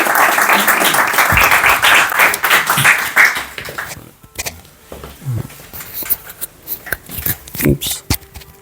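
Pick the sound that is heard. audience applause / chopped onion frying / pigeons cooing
audience applause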